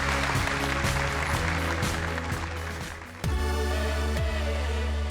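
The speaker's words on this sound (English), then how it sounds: "Round of applause for Shri, Steve, and the ultrasound" A live television studio audience gives a round of applause, a dense patter of clapping over sustained background music, briefly dipping before the music swells again.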